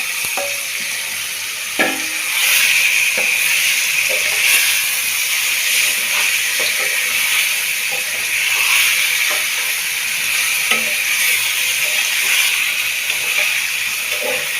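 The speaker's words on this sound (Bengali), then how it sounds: "দিয়ে মশলাগুলোকে ভালোভাবে কষিয়ে নিব।" Chicken pieces coated in spice paste sautéing in a hot pan, giving a steady close sizzle with occasional stirring scrapes and clicks throughout, no talking.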